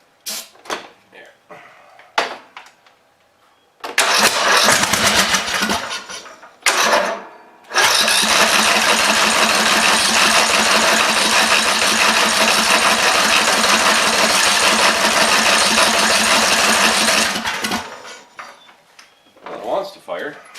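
Toro zero-turn mower engine being cranked on old gas, trying to fire: short starter bursts followed by a long loud grinding crank of about ten seconds, close up, with brief pauses between attempts.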